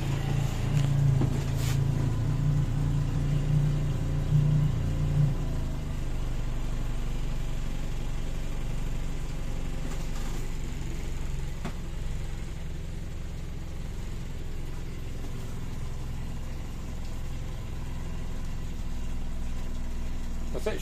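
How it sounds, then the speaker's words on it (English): A Mariner four-stroke outboard on a Birchwood 18 boat runs at a steady low idle, a quiet, continuous engine hum heard close by with faint background noise. "Starts really well. Pumping plenty of water, nice quiet engine,"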